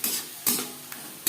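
Close, short scraping strokes of a spoon turning tomato, ginger and green chilli pastes into fish oil in a pan, three or four quick stirs with soft pauses between them and no talk.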